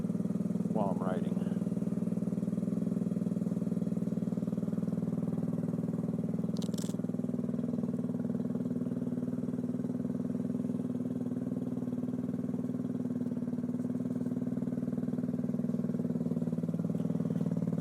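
Custom Kawasaki Z125 motorcycle ridden on the road at around 35 to 40 miles per hour, a steady loud engine drone and wind rush from onboard throughout, with a brief voice early on.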